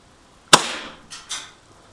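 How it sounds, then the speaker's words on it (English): A KJWorks KP-08 CO2 airsoft pistol fires a single sharp, close pop, followed by two softer hissing bursts of gas. "we're just going to put 5 rounds through the chrony"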